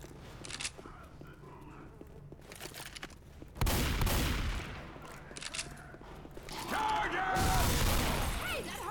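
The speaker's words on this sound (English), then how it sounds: "Got an auto shotgun." Auto shotgun gunfire in the zombie shooter Left 4 Dead 2, loud rapid booming blasts amid chaotic game noise and clatter, with faint voices in the mix.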